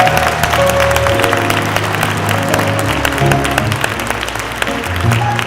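A gathered audience at a celebration of life gives sustained, loud applause, many hands clapping in a dense continuous wash mixed with a few cheers, lasting over five seconds.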